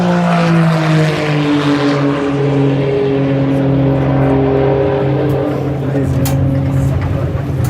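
A car circling the 31-degree banking at Daytona International Speedway, a loud steady engine drone with layered harmonics holding level, then thinning slightly as it carries down the backstretch, with no voices over it.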